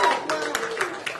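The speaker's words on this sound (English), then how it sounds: "Give yourself a round of applause." Brief burst of clapping and cheering from a small group at an awards event, close by, with an excited voice over the top.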